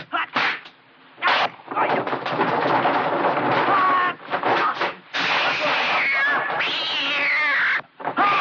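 A person imitating a cat in a Chinese film, with loud, drawn-out yowling meows and hissing caterwauls in several bursts separated by short pauses, close and harsh.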